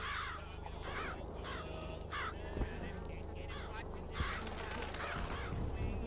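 Crows cawing in BioShock Infinite, a series of harsh repeated caws in short bursts over a steady low ambient hum, with a voice speaking faintly underneath.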